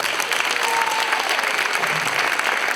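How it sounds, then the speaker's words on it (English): Dense, steady applause from an audience at a press conference fills the whole stretch at an even level, a wash of many hands with no break. "Let's give them a round of applause."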